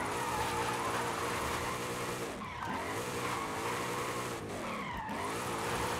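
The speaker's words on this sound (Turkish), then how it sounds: "Muhteşem el drifti," Car tires skid and squeal through a handbrake drift in the racing game Forza Horizon 5, a sustained loud screech over engine drone with two brief dips where the slide breaks and resumes.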